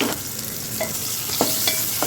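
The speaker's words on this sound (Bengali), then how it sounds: "তেলটা গরম হওয়া পর্যন্ত অপেক্ষা করে তার উপরে পেঁয়াজটা দিয়ে দিলাম, কাঁচা লঙ্কা দিয়ে ওটা লাল হওয়া পর্যন্ত অপেক্ষা করব।" Onions with green chilli, ginger paste and garlic paste fry in hot oil, giving a steady sizzle with a few scraping stirs of a spatula in the pan, close up and without talk.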